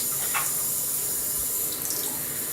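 Lukewarm water trickles from a tap in a steady, close, continuous stream, with faint splashing into a sink while someone works on stripping paint from plastic Warhammer models.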